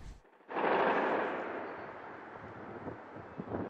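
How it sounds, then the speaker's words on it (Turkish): Gunfire on the streets of Cizre in Şırnak, Turkey: a single sharp, faint report bursts out after a short quiet and decays into a long, rolling echo. "Silah seslerinin yükseldiği"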